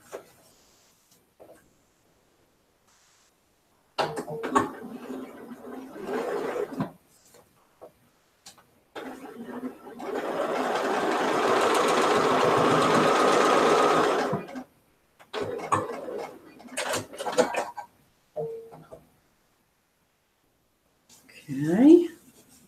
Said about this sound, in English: See how I'm just going to sew along there or sew along there.